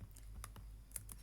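Computer keyboard keys are pressed for the Ctrl+A shortcut, giving several quick, faint clicks in an uneven burst against a quiet room.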